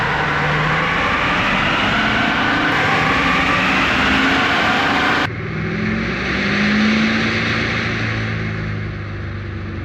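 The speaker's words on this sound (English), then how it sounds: "All right, first run, let's go." An LML Duramax diesel truck accelerating on a dyno, its engine note rising through a long loud pull, then a shift and a second climb, close and continuous, with no talking.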